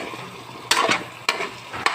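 Chicken liver adobo with sweet potato and squash sizzles in a pan while being sautéed until golden brown, with three sharp scraping stir strokes cutting over a low frying hiss.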